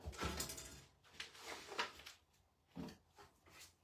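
A desk drawer holding card-making supplies is opened and rummaged through, giving a series of faint sliding knocks, clacks and rustles spread out in a loose, uneven rhythm.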